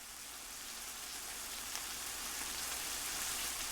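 Steady pouring rain hissing evenly throughout, loud and close, with no distinct thunder crash heard.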